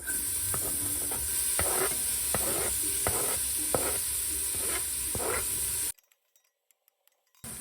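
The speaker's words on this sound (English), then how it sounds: "once our oil is a little bit hot, we're going to put in our onions" Onions sautéing in hot olive oil in a pan: a steady, close sizzle with repeated stirring scrapes, which cuts off abruptly near the end to near silence.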